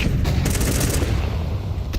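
Gunfire in Counter-Strike during a match, a loud continuous volley of rapid shots packed tightly together with booming low end throughout.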